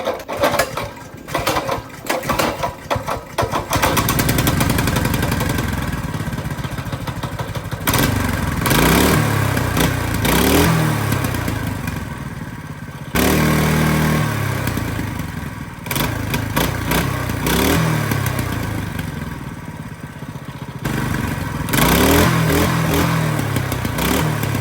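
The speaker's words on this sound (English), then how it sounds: "That bike definitely runs all right." A Coleman mini bike's small engine sputters through starting attempts, catches, then runs with an uneven, buzzy putter and repeated throttle blips, close and loud for over twenty seconds.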